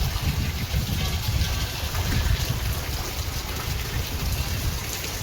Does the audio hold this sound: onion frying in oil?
no